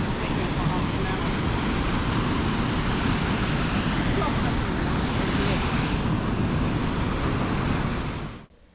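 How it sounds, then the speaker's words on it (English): Sand River waterfalls or rapids pour into Lake Superior in Lake Superior Provincial Park, making a loud, steady, close rushing roar with some wind buffeting the microphone; the sound runs continuously and then cuts off abruptly at the end. "It leads directly into Lake Superior via these waterfalls or rapids."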